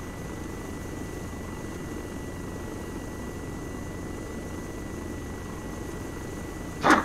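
A helicopter in the Arma 3 game gives a steady, continuous rotor and engine drone at moderate level. It runs unbroken throughout, with a brief louder click near the end.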